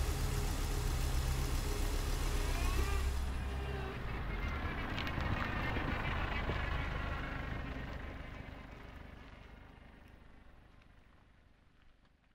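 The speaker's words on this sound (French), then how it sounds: "Pat se glissa dans la voiture de Mike et nous décollâmes en trombe" A car speeds away from a forest trail at a campsite, its engine roaring close at first and then steadily fading into the distance.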